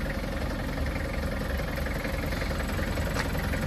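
A car engine idles steadily and loudly with a low, even rumble throughout, during a reverse driving lesson on an incline, with no talk.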